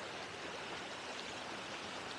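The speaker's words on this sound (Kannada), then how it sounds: "ಇದು ನಮ್ಮ ತೋಟದಲ್ಲಿ ನೀರು ಬರೋದು ಇದು ವರ್ಷ ಪೂರ್ತಿ ಹರಿಯುತ್ತೆ" A year-round stream runs through a farm in the Western Ghats forest, producing a steady, even rush of flowing water, soft and continuous with no voices.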